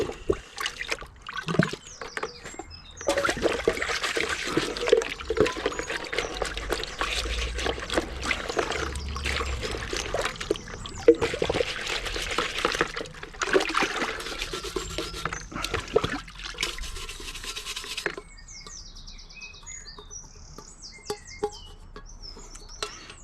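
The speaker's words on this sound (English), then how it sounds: "Now I'm going to give this another rinse out." Running water rinsing the parts of a Wagner XVLP 5000 paint sprayer, a close, steady splashing trickle with clattering of plastic pieces, easing to a quieter dribble near the end.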